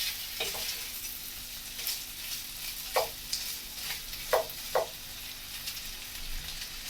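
Cabbage and sausage fry in a pan with a steady sizzle, broken by several clear stirring scrapes and clinks spaced a second or so apart.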